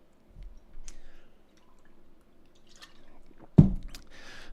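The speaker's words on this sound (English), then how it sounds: "Sorry, I had to take a drink of water." A person taking a sip of water at a desk, with faint clicks, a swallow and a wet squish close to the microphone, followed by a louder knock as something is set down.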